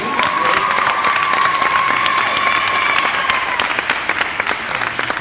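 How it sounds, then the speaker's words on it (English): At a 2016 graduation ceremony, a large crowd applauds and cheers for a speaker, with dense clapping, whoops and a shrill whistle rising over it, loud and sustained before gradually thinning. "Can we have another round of applause for Sonny Jones?"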